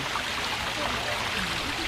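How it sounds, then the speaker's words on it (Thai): Water pours steadily down a man-made waterfall set among mountains at a day camping spot, a continuous broadband rush of moderate loudness with no breaks across the moment. "จะพามาเที่ยวน้ำตกที่คนสร้างขึ้นเองนะคะ อยู่กลางภูเขาเลยค่ะ"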